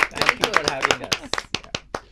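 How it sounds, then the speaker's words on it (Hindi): An audience claps in loose, uneven bursts that thin out to a few scattered claps, while voices talk over them. "ताली बजाएं हम अपने लिए खुद ब खुद।"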